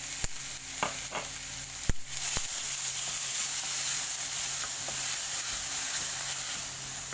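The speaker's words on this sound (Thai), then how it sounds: "เราเอาแหนมลงไปผัดได้สักแป๊บนึงนะ" Nham, Thai fermented pork, stir-fries for fried rice with a steady, even sizzle and hiss, broken early on by a few sharp scrapes and taps of a utensil against the pan.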